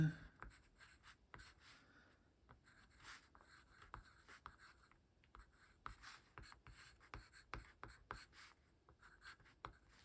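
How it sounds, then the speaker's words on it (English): Pen writing by hand on the back of a small card, a close, soft scratching of strokes in irregular bursts with short pauses, alone in a quiet room. "I think I will write it on the back here."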